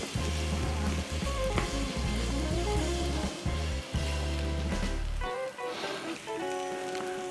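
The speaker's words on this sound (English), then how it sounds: "Get some butter all up and down there. Then I'll just smear it around." Butter being smeared across a hot Blackstone griddle crackles in a dense, close sizzle, broken by scraping strokes, then thins to a lighter fizz near the end.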